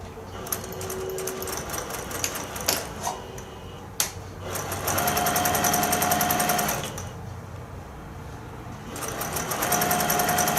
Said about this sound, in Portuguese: Já estou aqui finalizando minha última costura.